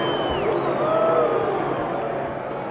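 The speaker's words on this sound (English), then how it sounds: "Now Ali is the recipient of boos from the crowd that cheered him as he entered the ring tonight" A boxing arena crowd boos at the end of round seven of Muhammad Ali versus Oscar Bonavena, a dense, steady roar of many voices filling the hall without pause and fading slightly near the end.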